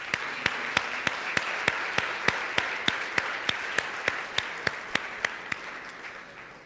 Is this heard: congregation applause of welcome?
yes